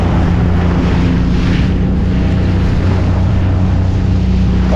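Ocean waves wash loudly around a small fishing boat in shallow water at sea, a steady rushing surf mixed with heavy wind buffeting the microphone throughout, with no talking.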